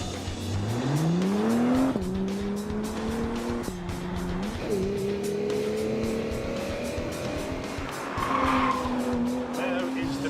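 A Rimac Nevera electric hypercar accelerates hard on a track, its rising electric motor whine sweeping upward and holding loud and close, with tire squeal and brief dips as it changes speed.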